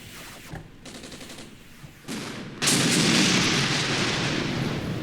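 A T-55 tank cannon in the Armored Brigade war game fires, first some distant muffled thumps and then a sudden loud booming blast that rolls into a long sustained roar of gunfire and rumble.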